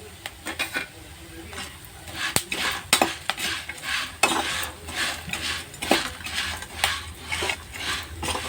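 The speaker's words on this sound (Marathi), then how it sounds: "ते छान परतून घेऊया." Whole spices for garam masala, including stone flower, are stirred and roasted in a dry pan, with repeated scraping and clinking strokes of a spoon against metal and a faint sizzle underneath.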